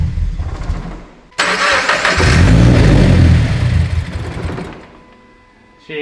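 A turbocharged Toyota FRS starter cranks briefly, then the engine catches with a sudden loud burst and revs hard before settling toward a quieter idle, heard up close.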